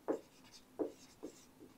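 A few quiet, scratchy strokes of writing on a board during a physics lesson, three or four short marks spaced under a second apart, with no one speaking.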